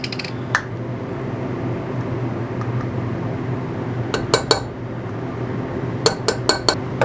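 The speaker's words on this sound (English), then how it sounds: "And then grab our spoon." A metal spoon clinks against a cup while measuring material for injecting fishing lure molds, a few bright clinks early on and a quick cluster of small taps near the end over quiet room tone.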